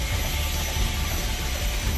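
After an emergency landing near a small shop, a helicopter's rotor blades keep spinning, giving a loud, steady, broadband engine and rotor roar that fills the scene without pause.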